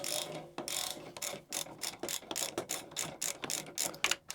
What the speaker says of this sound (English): However, I can just remove the bolt like that.